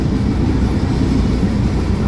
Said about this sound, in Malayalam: ബംഗാളി ട്രെയിൻ പോണതാ